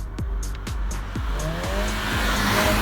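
Front-wheel-drive Skoda Octavia RS with a turbocharged 227 horsepower petrol engine pushed hard through corners on a road, with rapid repeated engine bursts giving way to tire squeal that rises and lingers.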